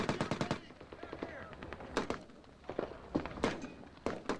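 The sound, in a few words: machine gun fire in Iraq war news footage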